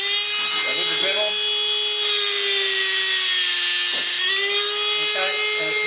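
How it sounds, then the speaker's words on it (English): A Dremel rotary tool grinds the rough edge of a coral frag flat, a steady high-pitched whine running throughout with brief dips in pitch as the bit bears into the coral; speech is faintly present underneath. "This one here is a bit rough around the edges, so we want to make a nice flat bottom of it. So with the Dremel."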